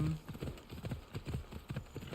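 Horse hooves clip-clopping at a steady trotting rhythm in the video game Assassin's Creed Odyssey, a string of evenly spaced moderate hoofbeats with faint background game ambience.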